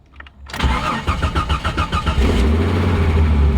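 A car engine cranks over in a quick rhythmic series of starter pulses, then catches and settles into a loud, steady idle close by, with no talking.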